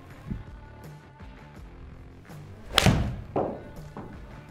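A golf ball struck with a Wilson iron, the kind used to win the US Open, gives one sharp, close impact near the middle, then a softer follow-up thud. Lighter knocks and handling noises sit around it, and nobody speaks.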